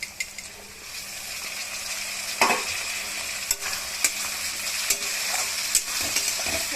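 Tomatoes and green chillies sizzle steadily in hot oil over browned fried onions, with a continuous close frying hiss broken by sharp stirring scrapes and clicks from the pan.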